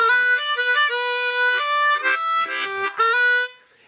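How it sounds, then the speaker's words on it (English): A harmonica plays bright, reedy notes up close, with a quick scooping bend rising into the 3 draw among short phrased notes and brief pauses, with no voices over it. "let's say we do a bend scoop up to the 3 draw"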